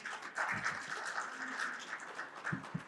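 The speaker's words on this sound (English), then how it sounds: "Give them a warm round of applause." Audience applause at a panel session on financial inclusion and climate-smart agriculture, a steady moderate patter of clapping across the room with a few louder claps near the end.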